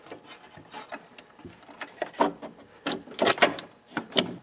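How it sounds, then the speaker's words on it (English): Snowmobile carburetor being worked back off its mounting studs, a close series of scraping, rubbing and clicking handling noises of metal and rubber parts, with no talk. "Now I'm going to back up the carb to get it off the studs here."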